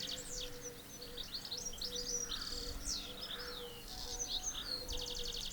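A busy chorus of small birds chirping and trilling outdoors in a garden, rapid overlapping calls over a soft cooing and faint insect hum.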